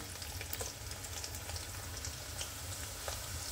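Onions frying in hot oil in a pot, a steady soft sizzle with faint crackles throughout, low and close, with no talking.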